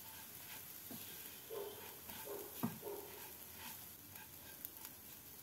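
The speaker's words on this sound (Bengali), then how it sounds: "গ্যাসটাকে মিডিয়াম টু লো ফ্লেমে রেখে পাউরুটির গুঁড়োগুলোকে ভেজে নেব" Breadcrumbs fry in ghee over a medium-low flame, a soft, quiet sizzle with a few stirring scrapes and gentle crackles close by.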